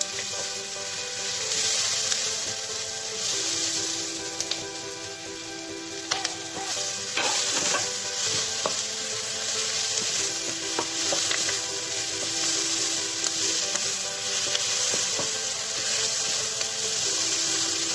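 Curry powder sizzles steadily in hot oil in a pan for chicken curry, a continuous close frying hiss with occasional scraping stirs of a spoon, some faint background music and no talking.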